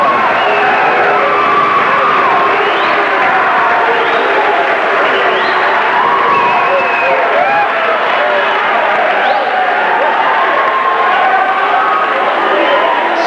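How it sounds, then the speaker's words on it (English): Crowd cheering and whooping at a 1989 community college basketball game, Brainerd versus Fergus Falls, after a hanging dunk attempt; loud sustained gym roar with shouts rising and falling across the whole stretch, a commentator's voice mixed in. "as you can tell, the crowd likes that one"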